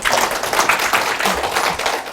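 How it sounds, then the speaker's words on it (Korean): An audience at a library humanities lecture on the Silk Road claps to welcome a lecturer onstage, with steady, dense applause running through the whole moment. "박수로 맞아주시기 바랍니다."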